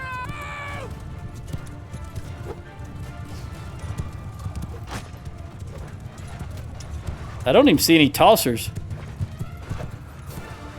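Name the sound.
horse hooves in the video game Mount & Blade II: Bannerlord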